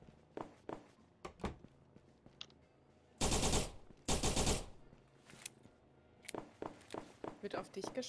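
Gunfire in the video game Perfect Heist 2, with a player shooting at cardboard boxes. Two loud bursts of rapid shots stand out among scattered sharp clicks and thuds, and voices talk around them.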